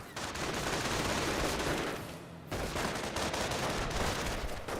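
Dense squad gunfire in a Company of Heroes battle: continuous rifle and machine-gun fusillades rattle loudly, briefly thinning for a moment before the shooting resumes at full intensity.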